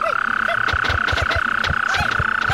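A small frog croaks in a quick, steady series of pulsing calls over a sustained tonal hum, close and fairly loud, with no talking.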